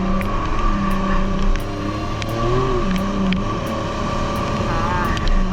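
A Superjet stand-up jet ski engine revs and throttles steadily throughout, its pitch rising and falling as it pulls out of turns, loud and close, with occasional sharp knocks and light splashing over the drone during a thunderstorm ride.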